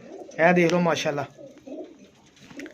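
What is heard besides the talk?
pigeon cooing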